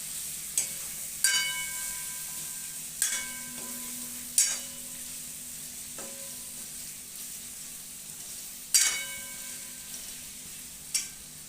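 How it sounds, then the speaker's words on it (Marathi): Intermittent metallic clinks and scrapes of a spatula stirring marinated chicken in a pan, spaced a second or two apart over a faint, low sizzle. "आणि चांगलं हलवून घ्यायचं"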